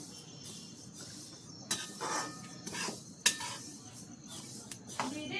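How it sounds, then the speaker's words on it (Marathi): Sesame seeds being dry-roasted in a pan for chutney, with scraping stirs and sharp metallic clinks of a spoon against the pan over a faint crackle, in irregular bursts. "आता तीळ भाजायला लागल्या."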